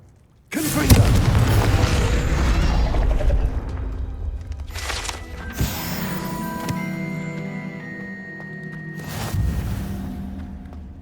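A Confringo spell in Hogwarts Legacy lands as a sudden heavy explosive boom that rolls into a long rumbling decay, then sharper bursts and whooshes follow, with ringing magical tones trailing behind.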